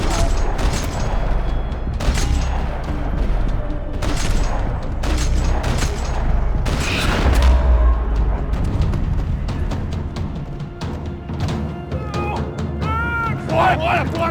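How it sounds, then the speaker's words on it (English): Gunfire rattles across a parking lot in Max Payne 3, with repeated loud bursts and booms of shots under voices speaking over the firefight. "Another parking lot rattling with gunfire."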